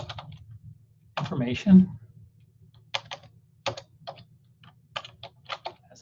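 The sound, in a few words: typing sign-in information on a computer keyboard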